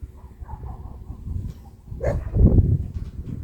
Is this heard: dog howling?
yes